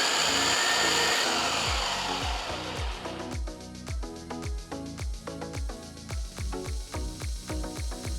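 A mixer grinder whirs loudly through ginger chutney for about three seconds, then winds down into slower rhythmic chopping pulses as the blades coast and spin in short bursts.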